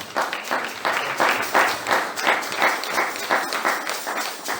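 A church congregation claps in a steady rhythmic beat during a worship service, loud pulses repeating about twice a second, close and energetic.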